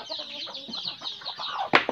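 Chickens cluck in a close, busy chorus at a rural poultry farm, with short overlapping calls running throughout and a sharper, louder squawk or flutter near the end.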